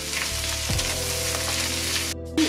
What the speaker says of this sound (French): Maintenant j'ajoute mes poivrons coupés grossièrement au mélange.